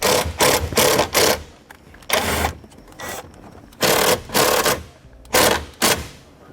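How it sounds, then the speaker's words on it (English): A 1/4 inch nut driver sinks a self-tapping screw into sheet metal in a series of loud, close whirring bursts, each lasting a fraction of a second to half a second, separated by short pauses. "Now I'm going to use a self-tapping screw that uses a 1/4 inch nut driver that does not come with the kit."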